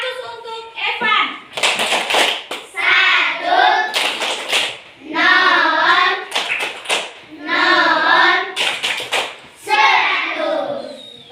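Classroom pupils doing a "tepuk 100" cheer for a classmate, sharp bursts of group clapping alternating with children chanting in rhythm, lively and close in a classroom setting.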